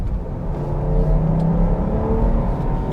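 A 2021 Jeep Grand Cherokee L's 3.6-liter Pentastar V6, rated at 290 horsepower, pulls steadily under acceleration, with a continuous low engine drone and road rumble heard from inside the cabin and no talking.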